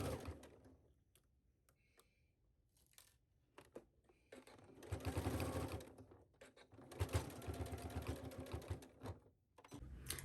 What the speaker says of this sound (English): you are going to stitch this down at your sewing machine